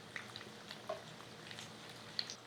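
Hush puppies frying in oil over medium heat, a soft continuous sizzle with faint scattered pops and crackles, quiet and steady with no talk.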